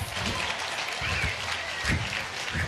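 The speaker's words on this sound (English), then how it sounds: "clap, clap for Jesus" A church congregation clapping loudly and continuously during a worship service, a dense wash of applause with a few faint voices underneath.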